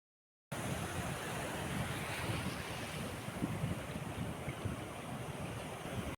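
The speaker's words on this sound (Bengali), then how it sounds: "আপনারা সমুদ্রের গর্জন শুনতে পাচ্ছিলেন" Sea waves roar continuously on Teknaf beach, a dense steady wash of surf mixed with wind buffeting the microphone, with no one talking.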